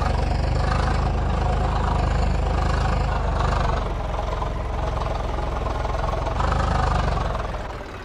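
A tractor engine in Farming Simulator 22 with an Indian mod, pulling a sugarcane trolley stuck in a wet field. It gives a steady, loud, low rumbling drone that dips briefly in the middle and then rises again.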